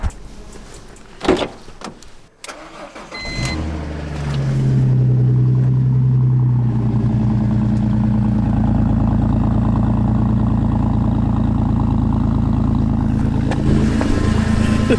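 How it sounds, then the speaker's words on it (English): A drift car starts on a cold morning: a few sharp clunks and door-like knocks, then an engine catches around four seconds and settles into a loud, steady rumble as it rolls forward, with no talking. "The car started rolling forward."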